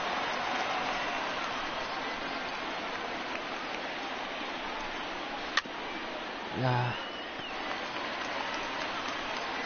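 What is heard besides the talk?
rain falling during a softball game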